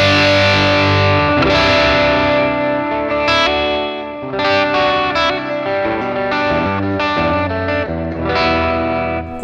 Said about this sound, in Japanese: このね、クランチクリーンもすごいいい音だなというふうに思いますね。